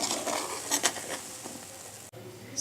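Ghee made from buttermilk butter still sizzling in a hot pan after the heat is switched off, a soft crackling patter with a few brief louder pops, close and fairly quiet.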